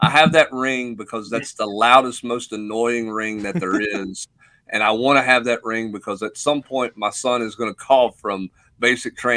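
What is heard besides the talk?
No distinct noise like a dog, phone or traffic.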